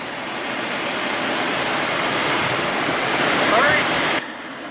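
A river rushes steadily in a broad, loud wash of flowing water close by, continuous for several seconds before dropping slightly at the end.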